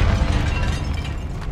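Confringo fire spell explosion in a video game: a loud, close burst with a low booming rumble that fades out over about a second and a half.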